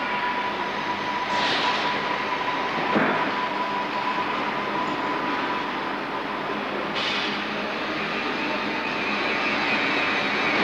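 A TGV high-speed train is drawn by a trolley into a wheel reprofiling workshop, a steady loud rumble of rolling rail stock with a faint hum and a few metallic clanks.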